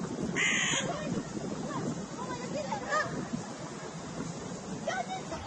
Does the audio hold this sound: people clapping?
no